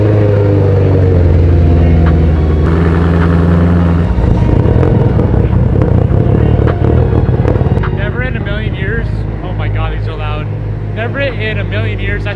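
BMW M3 driven out of a shop, a loud deep exhaust rumble idling, then a rough surge as it pulls away, with voices talking over the engine in the later part.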